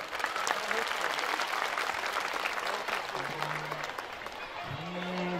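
Applause from a crowd at a school annual function rolls on steadily, moderately loud, with a voice speaking briefly beneath it.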